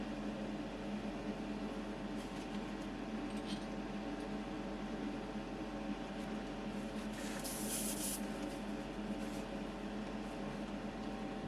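Automotive 2K paint sprays onto a Tamiya 1988 Porsche 911 Turbo model body in wet coats, a continuous close airy hiss with steady loudness and a brief brighter burst partway through.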